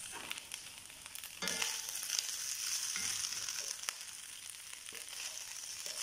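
Leftover rice being stir-fried with chicken mandi in a pan, a steady sizzle with scraping and stirring strokes that grows louder partway through, with no talking.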